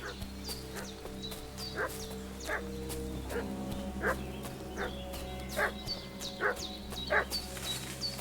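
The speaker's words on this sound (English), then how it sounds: "What's that dog making such a fuss about?" A dog barks and yips repeatedly in the medieval world of the video game Kingdom Come Deliverance 2, a few steady barks at moderate distance over a continuous ambient background hum.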